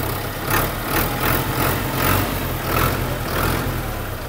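A modified Massey 640 tractor engine idles at slow revs, a steady low diesel throb with a regular pulsing beat, loud and close with no talk.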